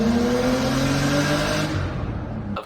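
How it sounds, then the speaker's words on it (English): A Nissan Skyline R33 GTST turbo engine sits close by, its loud steady drone holding at high revs with a whirring tone before easing off briefly near the end; no one talks. "The turbo sounds amazing, the car looks cool."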